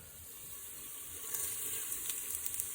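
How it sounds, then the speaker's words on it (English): Food fries in a pan with a continuous close hiss and sizzle, joined by small crackling pops in the second half. No voices are heard. "The sound of sizzling at its finest."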